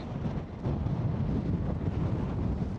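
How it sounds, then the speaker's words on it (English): Strong wind buffets a microphone outdoors on a hilltop overlooking a city in Georgia, producing a loud, continuous low rumble and roar. The sound swells slightly partway through, with no speech heard over it. "So windy, I don't know you can even hear me."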